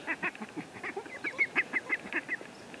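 Young turkey poults call out in a rapid series of high, piping peeps and chirps from their new outdoor enclosure, close and fairly loud, with no voices over them.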